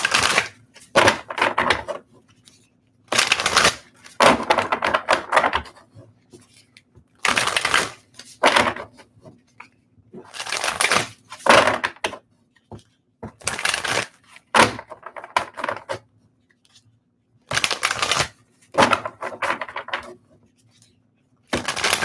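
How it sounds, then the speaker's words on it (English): Oracle cards from the Sacred Destiny deck being shuffled and pulled, giving bursts of crisp riffling and papery slaps in irregular clusters separated by short pauses, close to the microphone with no talking. "I'm going to go ahead and pull some more oracle cards from the Sacred Destiny card deck."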